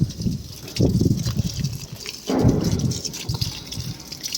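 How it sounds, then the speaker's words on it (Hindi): Strong wind gusting across a rooftop, loud and continuous with rushing surges that swell and ease, heard alone without talk. "हवा इतनी तेज़ हो रही है, बहुत ज़्यादा तेज़।"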